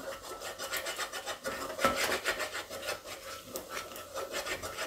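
A spoon stirs and mixes Rajwadi dhokli vegetable curry in a pan, giving soft repeated scraping and rubbing strokes in a quick rhythm, close and fairly quiet.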